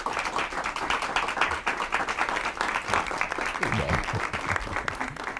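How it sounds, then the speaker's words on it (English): Live audience applauding at a Fellowship Farm educational event, a steady roomful of claps sustained throughout with a few louder individual claps near the end. "If we could give them a round of applause."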